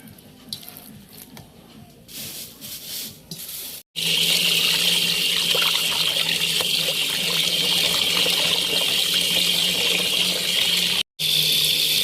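Fatty pork pieces are rinsed under a strong, continuous stream of tap water at a kitchen sink, preparing them for sinigang. The loud, steady splashing starts after a few seconds of quieter handling and pauses briefly once near the end.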